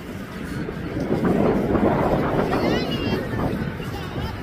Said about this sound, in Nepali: हावा सर्र सर्र रहेको छ